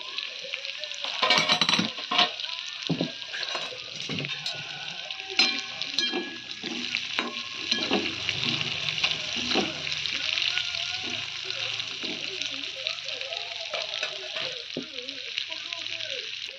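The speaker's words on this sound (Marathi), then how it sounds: "मंद गॅसवर त्याला आता मस्त अशी फ्राय करून घेते" Food frying in a pan on low gas while cooking a home recipe, a steady soft sizzle with scattered crackles and pops and occasional clinks of a utensil, fairly quiet and close.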